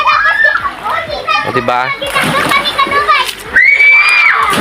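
Children splashing and playing in a cold spring gone muddy brown, the water sloshing among excited young voices and chatter close by, with an adult voice talking over the scene.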